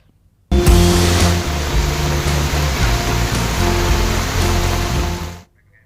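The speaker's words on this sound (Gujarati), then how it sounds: "રાજસ્થાનમાં વરસાદ" Heavy rain in Rajasthan, a steady broadband wash of rainfall that starts abruptly and holds at constant loudness for about five seconds, with faint low tonal hum underneath and no speech.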